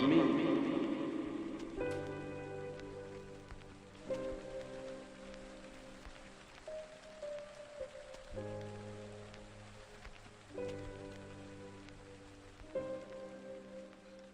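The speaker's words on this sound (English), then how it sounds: "Like he has raindrops, which always signify like cleansing." Raindrop sound effects in a song patter softly beneath sustained piano-like chords, a quiet rain texture woven into the music.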